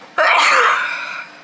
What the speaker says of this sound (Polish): Kicham ostatnio cały czas, ale nic mnie nie bierze, żadna choroba ani nic, po prostu kicham.